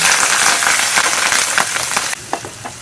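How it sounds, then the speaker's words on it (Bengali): Onion paste frying and sizzling in a pan with whole spices such as cinnamon and white peppercorns for egg korma, a loud continuous hiss with faint stirring clicks throughout. "তারপরে দিয়ে দেব পেঁয়াজের পেস্ট, নাড়া দিয়ে থাকবে"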